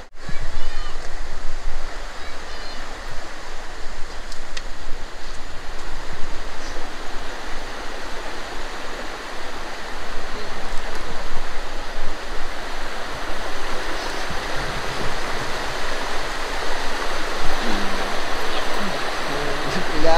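Clean river water flowing steadily, a broad continuous rush close by that holds the same level throughout with no pauses.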